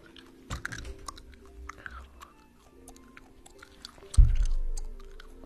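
Gum is chewed close to the microphone with soft, wet, irregular smacking clicks, then a louder squishy burst near the end, quiet and intimate with no clear talking.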